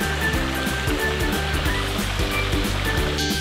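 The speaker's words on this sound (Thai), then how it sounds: "ได้ยินเสียงน้ำแบบไหลตึ๊กตึ๊กตึ๊กตึ๊กตึ๊กตึ๊กมันตึ๊กตึ๊กตึ๊กไหมน้ำตกอ่ะ" A waterfall at Ban Pa Bong Piang near Chiang Mai rushes as a steady, fairly close wash of flowing water with no voices over it.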